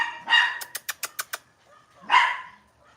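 A dog barks indoors at close range: a loud bark, a quick run of sharp clicks or taps, then a second bark.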